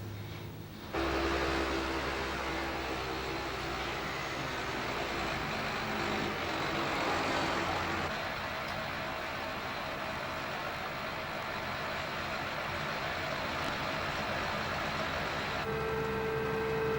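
Tractor pulling a slurry tanker with steering axles, injecting across a 7.5-metre working width, makes a steady broad engine and machinery roar that holds evenly for a long stretch at moderate distance.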